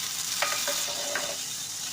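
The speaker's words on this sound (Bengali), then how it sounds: "ওই তেলটার মধ্যে শুকনো লঙ্কা, 5 ফোড়ন আর একটুখানি পেঁয়াজ কুচি দিয়ে দিলাম।" Dried red chili, Bengali five-spice and chopped onion sizzle in hot oil, a close, steady frying hiss with a few brief scraping stirs and no talk.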